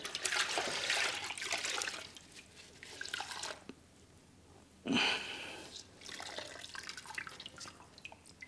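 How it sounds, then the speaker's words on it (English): A microfiber towel is dunked and rinsed in a bucket of rinseless wash solution, giving close watery sloshing, dripping and splashing with a louder burst of splashing midway, then trickling drips. "Now you would typically just put your microfiber towel in there, you'd give it a couple of little rinses and then you'd go again."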